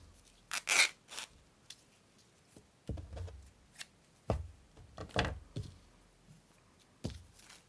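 Scissors cut fabric for a tea-stained scrap envelope craft, giving a few short, close snips and rustles spaced out over a quiet tabletop.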